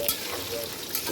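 Chicken pieces frying in a pan for a potato chicken curry, giving a steady close sizzle and crackle throughout the short moment.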